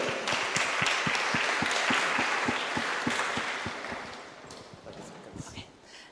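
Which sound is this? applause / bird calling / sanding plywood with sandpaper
applause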